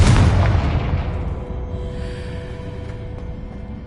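A Confringo blasting spell in Hogwarts Legacy bursts into a loud, booming explosion that hits at once and then rumbles away over a few seconds, with no speech.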